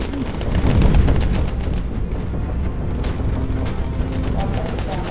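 Heavy booming bursts from an aircraft's machine gun in the bomber game Bomber Crew, loud and rapid, overlapping with engine drone and explosions while a player talks.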